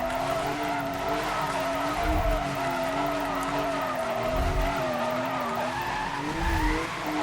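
A Porsche drifting in Need for Speed: Most Wanted (2012), its tires squealing in a long, wavering, sustained screech over the engine drone, with low thumps now and then.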